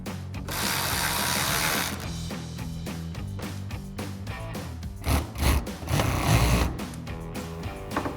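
Torx screws being driven out from the front fender flap of a 2014-2018 Silverado 1500, a power or ratchet driver giving repeated whirring and clicking bursts close up, with rubbing and clattering between them.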